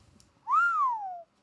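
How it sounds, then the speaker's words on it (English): A person whistles on an inhaled breath, producing a single clear, sliding tone that rises quickly and then glides slowly downward, lasting under a second and heard alone at close range. "I can whistle on the inhale."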